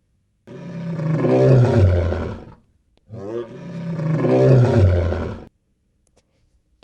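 A lion roars twice in close succession, each a loud, rough, drawn-out bellow that swells and fades, with a brief pause between the two and silence afterward.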